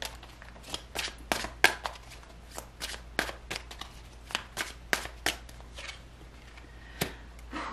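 Tarot cards shuffled and drawn at a table, a quick run of crisp flicks and slaps close to the microphone, irregular and fairly quiet over a low steady hum.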